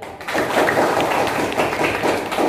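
A classroom of students claps together in short, rhythmic bursts of hand claps. The pattern repeats steadily and sounds close and fairly loud, with no talk over it.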